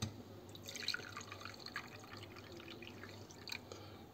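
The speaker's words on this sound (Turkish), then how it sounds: "Soğuduktan sonra şöyle bir kaseye süzüyoruz." A cooled boiled liquid strained into a bowl, a faint steady trickle with scattered drips and light splashes, quiet and close.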